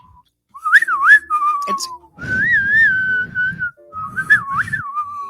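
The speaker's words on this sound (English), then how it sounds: "Unless we're singing two different songs with our whistles." People whistle a wavering, off-key song tune in short phrases, loud and close, with brief low talk or laughter mixed in between phrases.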